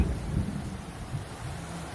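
Deep thunder rolls through a mid-morning rainstorm, a low, continuous rumble with swelling peaks over the steady wash of falling rain, with no voices.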